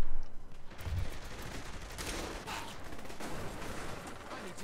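Gunfire in the Saints Row The Third video game, a dense continuous burst of shooting with broadband crackle and low thumps that keeps going for several seconds at steady loudness.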